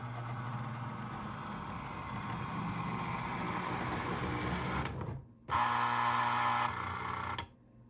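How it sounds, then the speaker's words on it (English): Two MPC-era Lionel toy train engines, one a Chessie U36, running with a steady electric motor whine and buzzing hum that cuts out briefly and then resumes louder before stopping. "These are obviously two MPC era Lionel engines."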